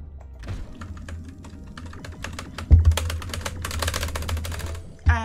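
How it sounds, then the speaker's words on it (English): Hard, rapid keystrokes hammer a computer keyboard, with dense clattering bursts and a few heavy thumps of keys being slammed, close and loud with no talking. "Sorry that I slammed so hard on the keyboard."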